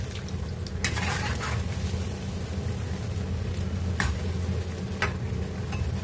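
Banana flower vadas, made crisp with added flattened rice (aval), fry in hot oil with a steady low bubbling sizzle, punctuated by a few sharp clicks of utensils against the pan.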